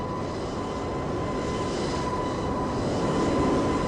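Steady jet engine roar from an airliner departing on runway 09 right in Microsoft Flight Simulator 2024, a constant moderately distant drone with a faint whine, no voices.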